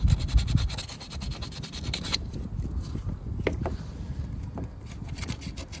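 Sandpaper scrubs corrosion off the battery terminal of a 2016 Ford Taurus, making close, irregular rubbing and scratching strokes, louder at first and then softer with a few sharp scrapes.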